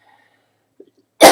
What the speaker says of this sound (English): she's making me cough